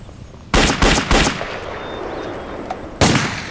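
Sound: machine gun firing in a war film

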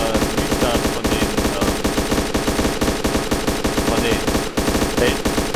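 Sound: gunfire from the video game Fallujah

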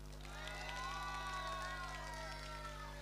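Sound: audience applause for a cosplayer

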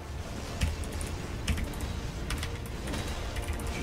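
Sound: typing on a computer keyboard

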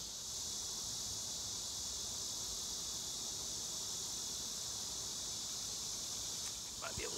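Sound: honey bees buzzing during hive inspection

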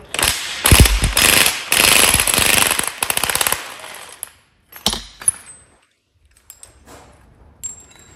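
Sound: bolting up Renault Clio gearbox mount

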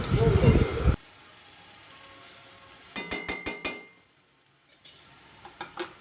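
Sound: utensil clatter while stirring cabbage in a pan

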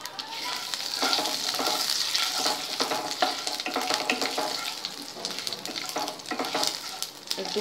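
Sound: five-spice (panch phoron) frying in oil

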